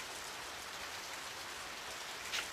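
Steady rain in the video game Radiant Historia: Perfect Chronology, a dense continuous hiss of falling drops at even loudness throughout, with no voices.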